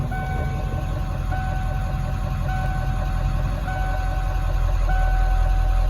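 A 1996 Ford F350 pickup with a 7.3L PowerStroke turbo diesel idles steadily and close by, a continuous low rumble with a faint high whine, while an intermittent beeping tone repeats in the background.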